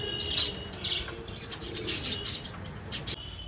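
A male pigeon, a pet offered for sale, gives soft coos and short chirps at close range, with faint rustling and light wing movement between calls.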